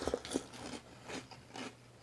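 Someone close by chews a mouthful of crunchy unicorn breakfast cereal, giving a few soft, faint crunching bites in quiet surroundings.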